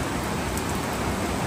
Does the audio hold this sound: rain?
yes